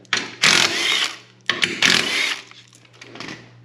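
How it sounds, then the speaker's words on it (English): Fairlead bolts come out during a winch installation on a Polaris RZR, with two loud, close bursts of a power driver buzzing, each about a second long, followed by a softer, shorter whir. "First thing you're going to want to do is take out these 4 bolts right here."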